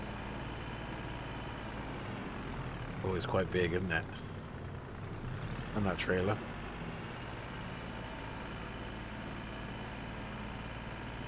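A farm tractor idles steadily in the background, a low continuous engine rumble running unchanged throughout while someone speaks briefly in two short bursts over it.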